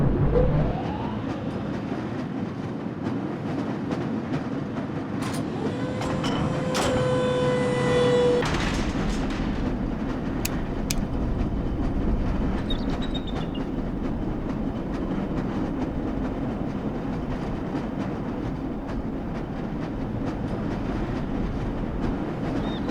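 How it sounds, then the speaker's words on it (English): Lever-controlled train from the video game Black Mesa rumbling along rails with steady clickety-clack and a rising whine and squeal partway through, continuous and fairly loud throughout, with no talk. "This lever-controlled train will transport you to a location where your training associates are waiting for you"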